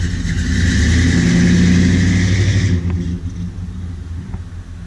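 A car engine revs loudly nearby with a deep rumbling drone, then pulls away, its sound dropping and fading into the distance over the last couple of seconds.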